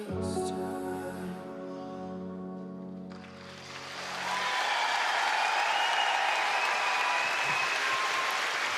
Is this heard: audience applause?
yes